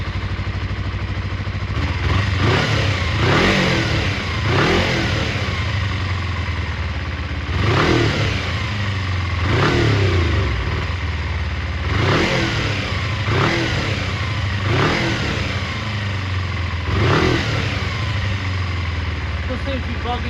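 A Kawasaki Eliminator EL 250 motorcycle engine runs and is revved repeatedly, rising and falling in a regular series of about eight throttle blips above a continuous close, loud idle.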